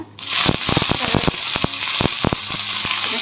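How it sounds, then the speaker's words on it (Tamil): Mustard seeds, urad dal and dried red chillies crackle and pop in hot oil for tempering mango pachadi, a dense close run of sharp sizzling snaps over a steady hiss. "பச்சடியை தாளிச்சிடலாம். கடுகு, கொஞ்சம் உளுத்தம்பருப்பு, வரமிளகாய்."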